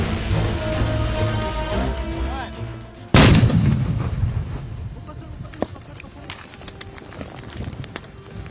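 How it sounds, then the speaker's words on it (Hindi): Controlled detonation of unexploded ordnance near an international border: one sudden loud blast with a rumbling tail, preceded by steady background noise and voices and followed by scattered faint clicks and knocks. "बिल्कुल कंट्रोल्ड डेटोनेशन से उस यूएक्सओ या उस विस्फोटक को पूरी तरह से ध्वस्त कर दिया गया है"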